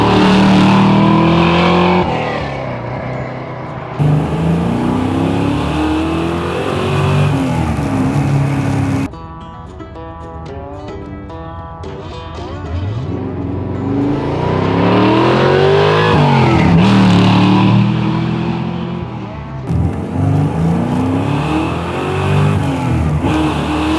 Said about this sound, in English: just pulling away in first gear, it really does put the power down